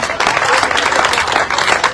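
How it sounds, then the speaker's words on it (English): A crowd claps for a local government chairman, dense and steady applause filling the whole moment at close range with no pauses. "Clap for him. Clap for the chairman."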